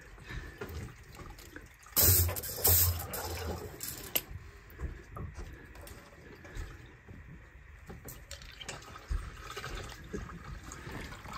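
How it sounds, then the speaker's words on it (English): Water drains from a water heater tank, running and splashing steadily, with a louder gush near the start before settling into a softer, continuous trickle. "the water looks to be running just a little bit faster"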